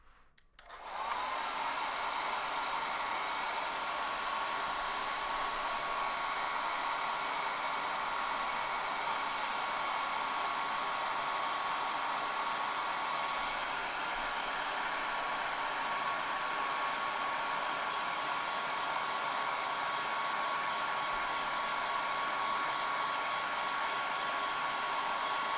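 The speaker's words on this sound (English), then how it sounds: "quick blow dry. Cover your ears if the noise bothers you." A hair dryer blows steadily after a sharp switch-on, a loud, even rushing drone with a faint whine that holds unbroken throughout.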